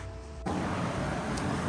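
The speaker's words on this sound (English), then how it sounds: "sorry about the fan in the background there." A steady, even whoosh of an electric fan kicks in abruptly after a brief near-silence and runs continuously with no talking.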